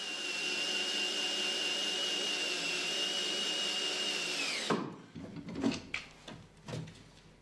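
A drill drives screws into the wooden frame of a vertical panel saw, whirring steadily and loudly for several seconds before cutting off abruptly, followed by a scatter of knocks and handling clatter.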